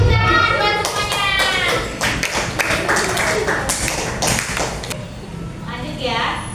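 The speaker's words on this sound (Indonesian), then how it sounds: "coba beri tepuk tangan buat semuanya" Students in a coding class clap together in a short burst of hand claps and taps, loud and close, with children's voices mixed in.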